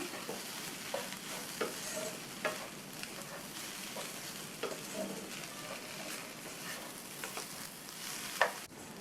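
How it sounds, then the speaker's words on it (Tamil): Mashed raw plantain podimas is stirred with spice powder in a pan, a soft continuous sizzle under repeated scraping and tapping of a spoon, fairly quiet and close. "சேர்த்துட்டு நல்லா எல்லாம் ஒன்றா மிக்ஸ் ஆகிற மாதிரி கலந்து விட்டுறணும்"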